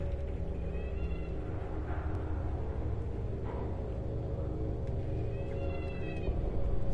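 A cat meows in the horror video game Among the Sleep, two drawn-out cries near the start and near the end, set against a dense, continuous rumbling game ambience.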